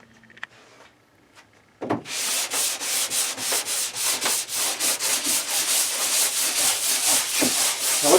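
Rhythmic hand sanding strokes rub back and forth across a shellacked MDF assembly table, steady and close after a quiet start, with no talking.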